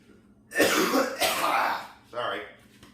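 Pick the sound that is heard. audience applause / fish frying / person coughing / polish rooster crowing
person coughing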